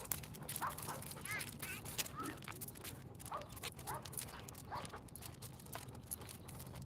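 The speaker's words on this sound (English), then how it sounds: "Got these dogs over here barking all the time." Several dogs bark in short, repeated yips and woofs, faint and some distance off, over a steady low hum and outdoor background noise.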